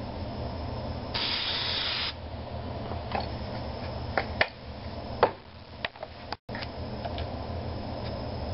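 One long, broad hiss of spray paint going on as a final coat, loud and close for about a second, then quieter background with scattered clicks and taps, no talking.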